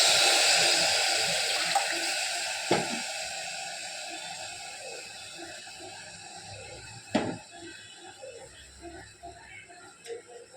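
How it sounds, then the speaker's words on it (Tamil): A steady hiss of water pouring into a metal pot of rice, fading slightly over time, with a couple of sharp clunks against the vessel. "இப்போ தண்ணி ஊற்றிடலாம்."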